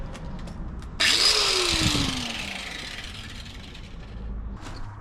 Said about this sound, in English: I should be able to get a grinder in there, take a bit of that off